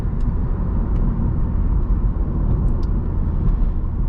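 A 2015 MINI Countryman S ALL4 in sport mode cruises with a steady low engine and road drone, muffled and continuous, without any spoken voices.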